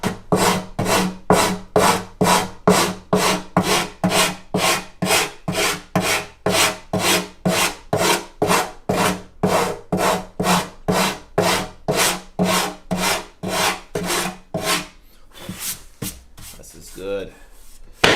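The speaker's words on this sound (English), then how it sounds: "So straight sandpaper on flat surface here." Acoustic guitar wood is pushed back and forth over sandpaper laid on a flat surface: about thirty even, rhythmic rasping strokes, close and loud, ending in a few lighter rubs.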